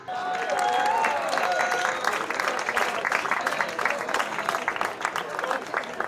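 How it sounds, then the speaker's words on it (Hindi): An audience at a stage show claps for a six-year-old girl's performance, dense and fairly loud applause that carries through the whole stretch, with a voice heard at the start. "एक बार और जोरदार ताली बच्ची के लिए हो जाए"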